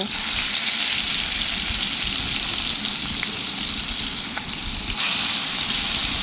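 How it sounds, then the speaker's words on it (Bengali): Rithe fish frying in mustard oil in a wok over a gas flame, giving a steady, dense sizzle that stays loud and even throughout, with a few faint clicks and a slight rise in the crackle near the end. "দিয়ে এবার এক এক করে মাছগুলোকে ভেজে নেব।"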